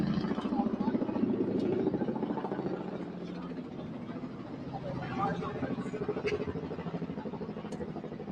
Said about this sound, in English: They waiting for the helicopter to start twirling.